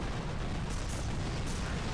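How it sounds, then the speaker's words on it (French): Super cannon firing in the mobile strategy game Boom Beach, heard as a dense, continuous wall of booming blasts and rumbling explosions, loud and steady throughout with no talk over it. "regardez ce super canon qui est en bas à droite, pardon, et qui fait son travail"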